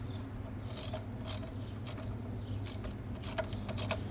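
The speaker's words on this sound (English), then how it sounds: "to finish tightening it down with the ratchet." Close ratchet clicking in quick bursts while a spark plug is tightened on a Jamper, with steady low background noise and no talk.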